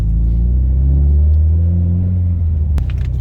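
A Subaru car drifting on a winter road, its engine rumbling loud and close as the revs rise and fall, without speech, and a brief sharp knock near the end.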